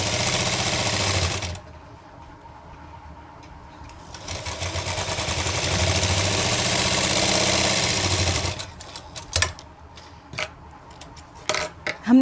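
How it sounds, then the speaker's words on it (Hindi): A domestic sewing machine stitches fabric for a girl's umbrella frock, running in a steady, dense mechanical whir for two long stretches with a pause between, followed by a few clicks and handling knocks. "दोनों तरफ से हाफ हाफ करके हम इस तरह से अपनी सिलाई को लगाएंगे"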